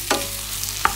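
Mushrooms and tomatoes cooking in a pan for cheesy pasta, a brief close sizzling hiss with two quick utensil scrapes, and no one speaking.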